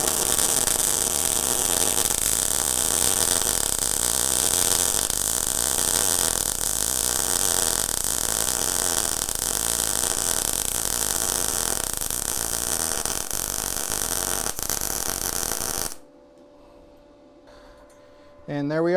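A Primeweld MIG 180 welder running at 110 volts lays a bead on 1/8 inch metal with a loud, steady crackling buzz that carries on for about sixteen seconds, then stops abruptly into quiet.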